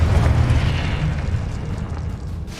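A Confringo blasting spell explodes in the Hogwarts Legacy video game: one heavy, booming burst with deep rumbling low end that decays over a couple of seconds, heard alone without talk.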